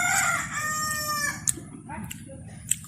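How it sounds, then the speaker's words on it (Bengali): A rooster crows once near a village home, its long harmonic call filling the first second and a half, followed by a few faint clucks and small knocks over steady low background hum. "মুরগি ডাকে"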